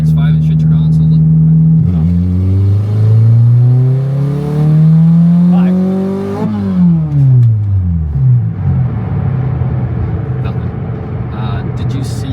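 A Toyota MR2 with a naturally aspirated Honda K24 swap revs up hard, climbing in two long pulls toward about 6,000 rpm before dropping back to a rough idle, loud and close, with people talking over it.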